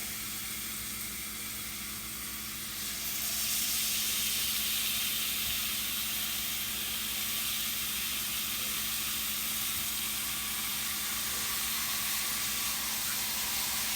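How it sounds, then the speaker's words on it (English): Pork chops searing in a skillet give a steady, broad hiss that swells a few seconds in and holds, with no voices over it. "let's go on and get our pork chops seared up"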